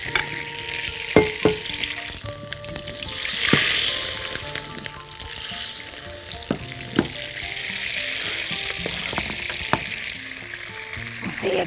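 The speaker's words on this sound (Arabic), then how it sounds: "هناخد الفراخ بتاعتنا دي وهنحمرها في الزبدة" Seasoned chicken balls frying in butter and oil, giving a continuous crackling sizzle with occasional sharp pops and taps of utensils against the pan.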